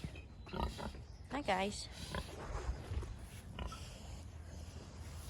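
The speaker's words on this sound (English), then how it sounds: "So we've got our little pigs right here." Small pigs grunt and oink close by in a farm pen, with a few short snorts amid rustling, while a person speaks briefly over them.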